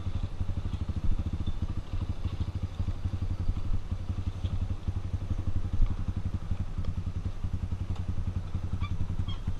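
Honda Tornado 293 cc trail motorcycle idling steadily up close on an off-road trail, a continuous low pulsing engine rumble with light mechanical clatter throughout.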